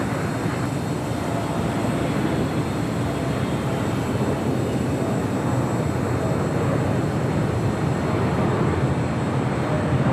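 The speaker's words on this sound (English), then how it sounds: "The Emirates A380 next arrival on 24 right." An Emirates Airbus A380 arriving on runway 24 right at LAX fills the air with a loud, steady, broadband jet roar that holds constant throughout, with no talk.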